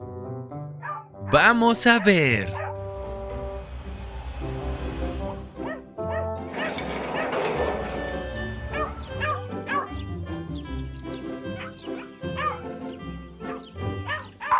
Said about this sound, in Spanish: ¿Puedes escuchar los ladridos?